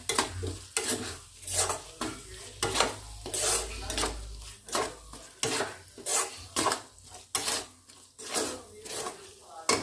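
Mutton mince with turmeric and chili powder being stirred in a pan for a homemade kima fry, a metal spoon scraping and clanking against the pan in a steady repeated rhythm, close and fairly loud, with no talk.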